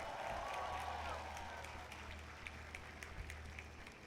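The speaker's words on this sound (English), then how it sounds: "Please give a round of applause for your parents" Faint applause from a convocation audience honouring parents in a large hall, a distant, quiet patter of clapping under a low hum, with some speech-like sound early on.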